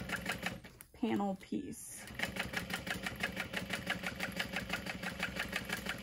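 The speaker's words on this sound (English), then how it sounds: "So I'm going to sew that with about a quarter of an inch seam allowance" A sewing machine stitches a leather wallet panel, running a steady, rapid mechanical chatter for several seconds after a brief spoken phrase at the start.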